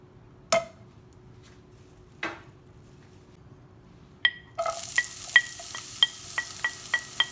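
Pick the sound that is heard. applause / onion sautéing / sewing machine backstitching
onion sautéing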